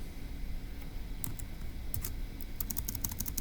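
Typing on a computer keyboard comes in quick bursts of crisp key clicks, sparse at first and then denser, faint over a low steady background hum.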